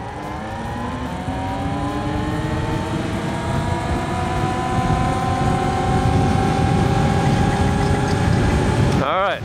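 Altis Sigma electric bike accelerating hard from a stop at 60% torque, a steady loud whine with rising harmonic tones and wind rush sustained throughout, ending in a brief sharp sweep.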